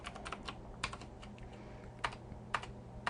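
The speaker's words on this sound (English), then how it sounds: "And just type head." Quiet key clicks from a computer keyboard as HTML code is typed into a text editor, with a few sharper keystrokes spaced irregularly over about three seconds.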